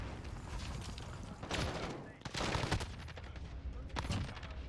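Sustained heavy fire from a VTOL gunship killstreak in Call of Duty Modern Warfare, a dense rolling barrage with louder bursts and thuds rising and falling over several seconds, close and loud.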